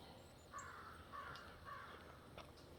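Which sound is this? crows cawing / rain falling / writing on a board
crows cawing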